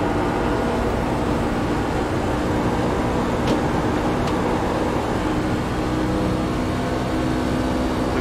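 A race truck engine in iRacing holds a steady, droning roar as it builds speed on the high side of the Texas oval, continuous and loud with little change in pitch and no voices.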